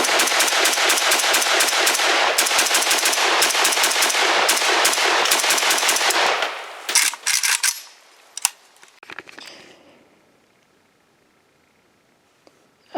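A Romanian AES-10B RPK rifle fires a long sustained automatic burst for about six seconds, loud and rapid, followed by a few short bursts and scattered single shots that fade into a quiet tail.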